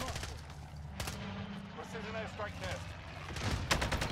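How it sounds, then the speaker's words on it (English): A precision airstrike lands in the video game Warzone on the Caldera map: sharp blasts and rattling impacts strike near the start and again near the end, with people's voices in between. "Precision airstrike test."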